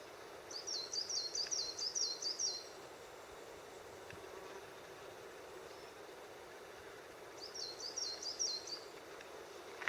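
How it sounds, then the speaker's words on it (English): Two bursts of high, rapid warbling birdsong, near the start and again near the end, over a quiet hush in Fernworthy Forest on Dartmoor. "I don't know if you can hear birds."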